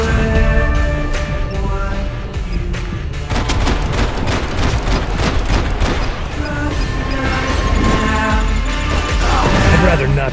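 Grenade blasts and heavy gunfire erupt in Max Payne 3, a loud, dense barrage of rapid shots and booming impacts that rolls on without pause, with crashing debris layered over a constant roar.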